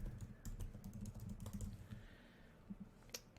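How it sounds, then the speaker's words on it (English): Keys clatter on a computer keyboard while a title is typed in for an online video upload, a quick uneven patter of close, soft clicks that thins out toward the end. "so you just type in."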